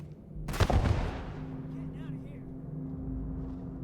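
A grenade blast erupts in the space game Starfield, a loud broadband boom that rolls into a decaying rumble, followed by a low steady hum and faint scattered game sounds.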